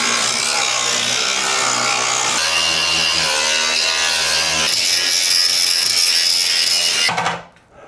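A grinder whines loudly and steadily in a workshop during lift stand construction, a close continuous high-pitched drone that shifts pitch a few times and cuts off abruptly near the end.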